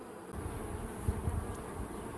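Honey bees from a caught swarm droning steadily inside a hive, a dense, close, continuous buzz with no talking.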